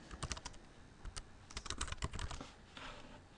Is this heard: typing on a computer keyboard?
yes